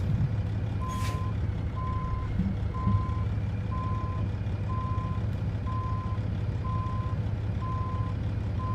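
Truck reversing alarm in American Truck Simulator, a regular series of about nine evenly spaced beeps over a steady low engine rumble, clear and moderately loud.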